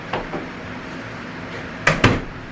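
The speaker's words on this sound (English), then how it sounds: "Close the door." A door at a trailer or hotel room has a strap door anchor hung over it and is shut, giving a soft knock and then two sharper close thuds and a latch in a quiet room.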